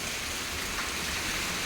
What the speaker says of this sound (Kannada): ಜೋರು ಬರ್ತದೆ ಈಗ ಮಳೆ